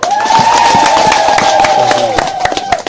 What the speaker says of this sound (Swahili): mpige tena makofi